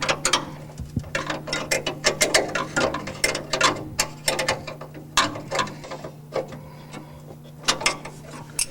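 A ratchet wrench tightens nuts on the brake servo bolts of a Rolls Royce Silver Cloud, a fast run of close, sharp clicking bursts with brief pauses between strokes.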